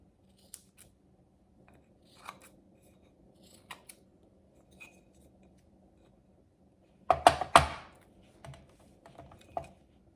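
Scissors trimming green tape bits from a ceramic tile coaster, heard as a few faint scattered snips and a louder burst of close cutting in an otherwise quiet room.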